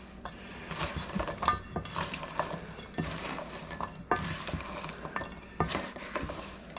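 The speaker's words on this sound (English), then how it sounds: "Mix until it's all absorbed and coated." Walnuts being stirred with a brown sugar and curry mixture in a pan, a steady run of scraping, clinking spoon strokes against the pot with faint sizzling, no voices.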